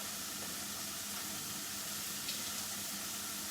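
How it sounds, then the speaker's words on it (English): A tablespoon of water hitting a hot pan of broccoli gives a steady, close sizzling hiss of steam that fills the whole stretch without a break. "just about a tablespoon of water, and that'll get the steam happening"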